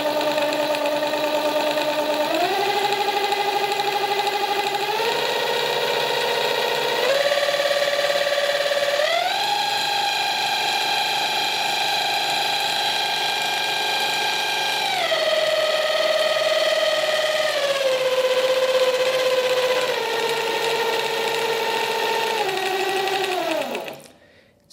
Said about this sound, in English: Noise level with the aluminum gear installed. First with no drivetrain.